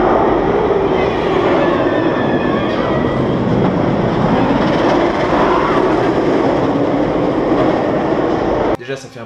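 The Osiris roller coaster runs on nylon wheels with a loud, continuous rumbling roar and rattling, like a rushing train, for several seconds before cutting off abruptly.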